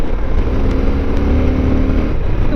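Powerful Yamaha Super Tenere motorcycle ridden fast on twisting backroads, a loud, steady close engine roar blended with heavy wind rush and no talking.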